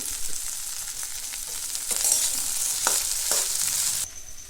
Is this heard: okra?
yes